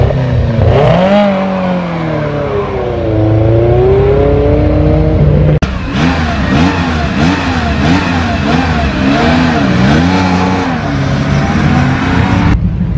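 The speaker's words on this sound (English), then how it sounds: "So then, the Ferrari Dino 308 GT4." A Ferrari Dino 308 GT4 at a historic rally blasts past, its engine revving hard with rising and falling pitch through repeated gear changes, loud and close throughout.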